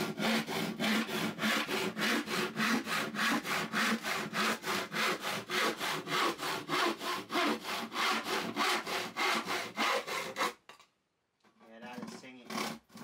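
A restored old hand saw cuts through wood in fast, steady back-and-forth strokes, loud and close for about ten seconds before stopping, followed by a brief faint voice.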